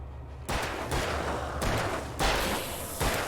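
Rapid in-game gunfire in Alan Wake, a few loud, close bursts of shots landing in quick succession, each separated by a brief gap, with no talk over them.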